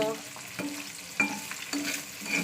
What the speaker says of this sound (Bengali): চলুন ডিমটা ভেজে খেয়ে নিই